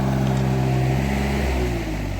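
A tractor pulling a rotary tiller through a mango orchard runs with a steady, loud low engine drone, alone and unbroken for the short stretch.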